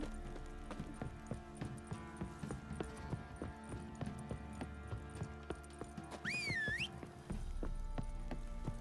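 Horses' hooves clip-clop in The Witcher 3 video game, a steady rhythmic trot of hoof knocks over low game ambience, with a brief whinny partway through and no talk.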